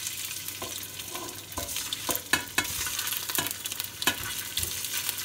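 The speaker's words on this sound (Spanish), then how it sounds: "Empezamos a dorar primero el chorizo" Chorizo browns in hot oil with a steady crackling sizzle, punctuated by a few sharp scrapes and taps of a utensil in the pan, close and moderately quiet.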